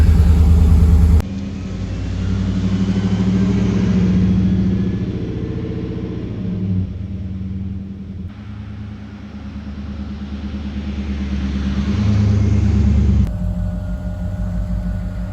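A 1936 GMC truck with a 5.3-liter aluminum-block Gen 3 LS V8 idles steadily with a deep, low rumble, loud and close, its tone rising and falling slightly throughout.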